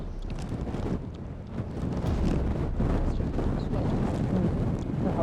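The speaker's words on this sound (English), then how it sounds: "It's very windy, isn't it?" Strong stormy wind in Orkney roars and buffets the microphone in a continuous, loud rumble, with gusts swelling and easing throughout and no other clear sound.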